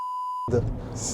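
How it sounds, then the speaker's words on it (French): A single sustained censor bleep holds steady for about half a second, then cuts off as a voice speaks inside a Smart #5 Brabus. "Je vais être obligé de biper là"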